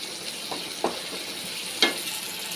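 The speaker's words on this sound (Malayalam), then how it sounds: "പച്ചമുളക് ഫ്രൈ ചെയ്യുവാണ്." Green chillies and ginger fry in a pan for a variety chutney with a steady close sizzle, marked by a few soft stirring clinks, with no talking.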